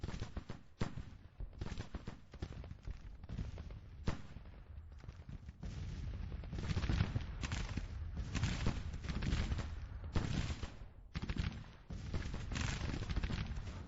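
Dense battlefield gunfire in the Grand Tactician Civil War strategy game, Spring 1861 campaign: rolling volleys of musketry crackle in continuous waves, with heavier artillery booms thudding underneath throughout, loud and layered with no voices.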